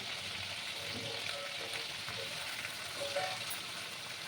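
A paste of ginger, garlic and green chilli fries with prawns in a pan, giving a quiet continuous sizzle with occasional faint stirring scrapes.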